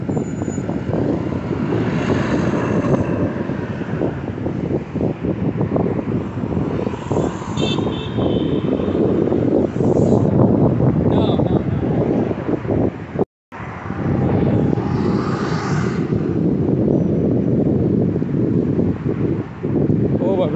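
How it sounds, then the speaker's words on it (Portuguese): Strong wind buffets a microphone while cycling along the Maceió seafront, giving a continuous loud rumbling roar with a brief dropout, and a voice speaks at times over it. "vento aqui é muito forte"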